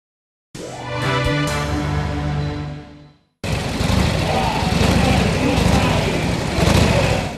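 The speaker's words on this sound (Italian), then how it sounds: "Il rombo inconfondibile delle Harley Davidson ha risuonato per le strade di Cuba" Harley-Davidson motorcycles rumble through the streets of Cuba, a loud, throaty engine roar in two stretches split by a short break, the second denser and steadier like several bikes passing together.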